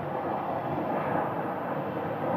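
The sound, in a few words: Boeing 737-700 airplane at Phoenix Sky Harbor Airport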